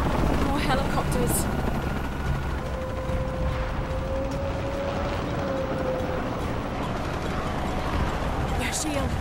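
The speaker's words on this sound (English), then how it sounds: "More helicopters." In the video game Shadow of the Tomb Raider, helicopters drone overhead with a steady, dense mechanical rumble and clatter, while a voice speaks and a faint tone rises over the noise.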